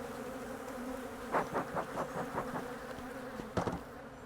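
Honey bees buzzing around an overheated hive, a close steady hum with louder swells and passes of individual bees rising above it.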